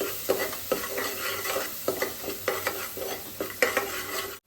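Mutton curry masala with chilli powder and turmeric fries in a pan, sizzling steadily while a spoon scrapes and stirs it in repeated strokes, close and fairly loud, with no talking.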